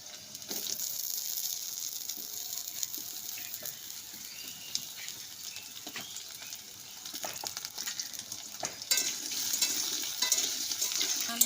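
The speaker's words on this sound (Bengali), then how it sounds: "এবার আমি আলুটা দিয়ে দিচ্ছি আলুটা লাল লাল করে ভেজে নেবো" Potatoes fry in hot oil in a pan with five-spice and dried red chilli, a steady close sizzle broken by occasional stirring scrapes and clicks, with no talking.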